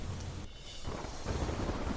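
Torrential monsoon rain and thunder over Devaliya, Gujarat: a steady, dense roar of downpour with low rumbling swells, loud and continuous throughout, no voices.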